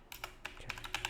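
Keys clatter on a computer keyboard in quick, uneven taps, about a dozen crisp clicks in a second, faint and close with no voices.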